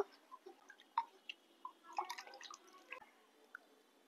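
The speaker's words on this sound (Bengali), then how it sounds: "জামগুলো প্রথমে পরিষ্কার করে ধুয়ে নেব।" Jamun fruits being washed in water, heard as faint, close, scattered drips and small splashes with soft squishy handling sounds in an otherwise quiet setting.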